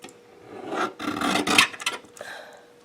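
Edges of Druid Craft tarot cards being trimmed, a close rasping scrape that swells in two or three strokes over a few seconds, fairly loud with no voices.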